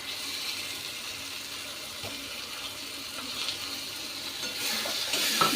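A soft, steady sizzle of ground cumin and coriander spice paste frying in a pan, with occasional light scrapes of stirring, growing a little louder toward the end.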